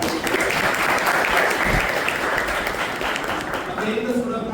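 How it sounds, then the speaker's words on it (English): Loud, steady applause from an audience clapping for participating students at an IEEE flagship event, continuous and dense throughout with a busy crowd texture. "Please clap for them."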